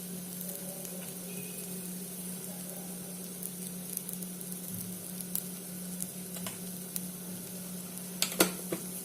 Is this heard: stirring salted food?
yes